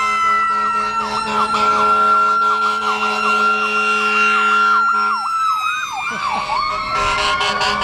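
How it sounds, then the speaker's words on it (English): Loud wailing emergency sirens sweep up and down continuously, several overlapping, close by and dominating the scene. "The sirens seem a little extra loud today."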